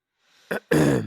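A single short throat-clearing cough, then a louder, longer rough burst of coughing, close and alone with no talk.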